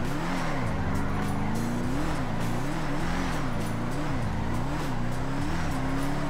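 Car drifting in GTA, a loud continuous engine drone rising and falling in pitch as it revs, with tire squeal through repeated slides, close and sustained.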